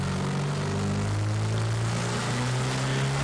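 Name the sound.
car engine turbo spooling up at lowest spring pressure setting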